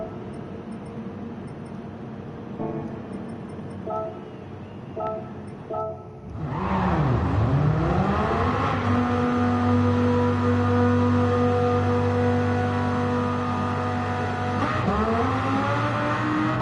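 A car engine idles low, then revs up into a loud, sustained roar, close by, with the pitch climbing and holding.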